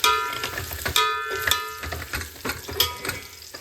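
Onions frying in hot oil with cinnamon, cloves and spices for mutton biryani, a steady sizzle broken by repeated clinks and scrapes of a spoon stirring in the pot, close and clear with no talk.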